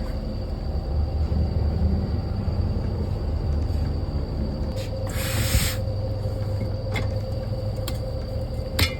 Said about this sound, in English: the leaf hole of the airbag piston cannot hold the air pressure at all